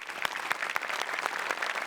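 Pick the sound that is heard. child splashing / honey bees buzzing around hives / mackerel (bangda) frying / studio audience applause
studio audience applause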